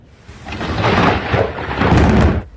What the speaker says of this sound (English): the severe storm's bringing rainfall, thunder, and lightning